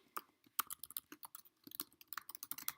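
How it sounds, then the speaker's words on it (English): Quick, irregular clicking of keys on a computer keyboard at a desk, typed in short bursts close to the microphone, with no voices. "Let me type in the comment section."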